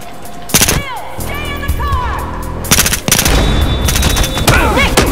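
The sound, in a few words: gunfire in a video game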